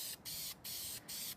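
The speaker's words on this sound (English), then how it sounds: "I'm going to go ahead and spray the back." Spray paint hisses onto the back of a DIY wedding invitation in four short, close bursts separated by brief pauses.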